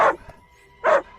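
Several dogs bark in two short, loud bursts with a quiet pause between them, out in the night at a little distance; no one speaks.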